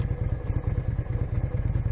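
A motorcycle with a big, deep exhaust pipe idles nearby, throwing out a steady, evenly spaced low thumping pulse.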